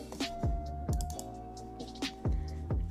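Someone types code on a computer keyboard in quick, uneven bursts of sharp clicks, close and fairly quiet, with short pauses between runs of keystrokes.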